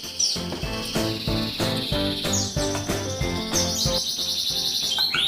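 Bright, rapid chirps and trills of a white-eye bird repeat continuously over a steady insect-like drone, close and loud.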